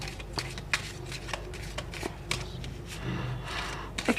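A Lenormand tarot deck is shuffled by hand: soft, close riffles and slaps of cards in quick, irregular flurries over a few seconds, with no voices.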